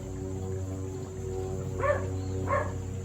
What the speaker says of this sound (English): That's Dallas, my little puppy